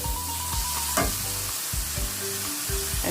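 Mussels stir-fried with chili in a pan, a steady close sizzle broken by regular scraping strokes of a spatula about every half second, with no voices.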